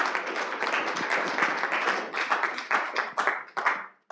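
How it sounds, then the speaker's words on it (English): Audience applause at a seminar on property rights in Ukraine, a dense run of hand claps that thins into scattered separate claps near the end before stopping, heard without speech. "Applause, yeah."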